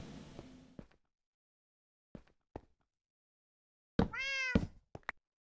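A Minecraft 1.14 cat gives one clear, drawn-out meow near the end, preceded by a few sparse soft knocks and thuds amid silence.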